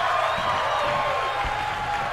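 Virtual arena crowd in the wrestling video game WWE 2K22, a dense, steady roar of cheering and applause at constant loudness with no break.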